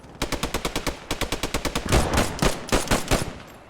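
Gunfire in the video game Post Scriptum: two rapid bursts of machine-gun fire, followed by heavier, irregular shots.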